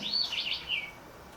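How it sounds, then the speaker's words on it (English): A wild bird sings a short, fairly faint warbling phrase followed by a brief chirp, heard alone against quiet outdoor background during spring. "Not quite as much of a chorus as this, but definitely there's some birds singing out there."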